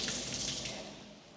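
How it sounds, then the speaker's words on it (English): A tap runs in an empty two-bedroom apartment, giving a steady close rush of water that eases slightly toward the end, with no voices over it. "And of course, there is water."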